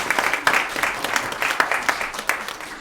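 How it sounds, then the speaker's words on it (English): Audience applause at a choir concert, a steady wash of many hands clapping close by, dense and sustained with a few sharper claps standing out. "You can give her a round of applause."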